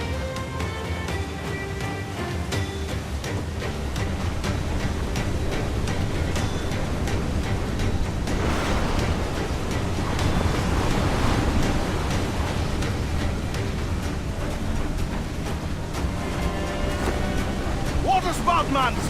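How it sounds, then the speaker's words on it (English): Wind and crashing waves around a waterspout at sea in the video game Assassin's Creed IV Black Flag, a loud, steady roar of surf and gusts with voices shouting over it. "Water spout, man! Stay wide!"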